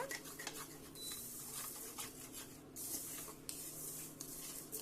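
Vermicelli frying in ghee in a pan for payasam, a quiet sizzle with light scraping of a spoon against the pan and soft clinks, close and faint, with no talking.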